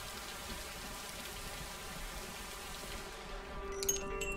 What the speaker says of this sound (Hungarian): hogy esik az eső